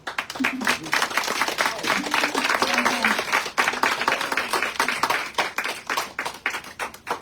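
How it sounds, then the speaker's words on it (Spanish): An audience claps after a Spanish-language poetry reading, steady dense applause lasting several seconds with a few voices calling out underneath. "Otro aplauso."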